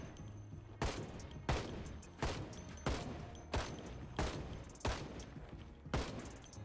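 Gunshots fired at zombie hordes in Project Zomboid, seven sharp, evenly spaced reports about a second apart, each decaying quickly, with no talking.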